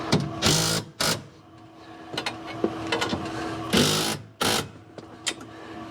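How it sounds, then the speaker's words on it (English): Impact driver hammering seat lock bolts tight on a Kawasaki KRX 1000 flip-forward seat install, several short loud rattling bursts with pauses between, close up. "I've got an impact. I'll try not to block the view, but I'm just going to simply come in here and tighten these down"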